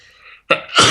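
One loud, close human sneeze bursts out in two parts, a sharp intake then an explosive release, after a faint breathy lead-in.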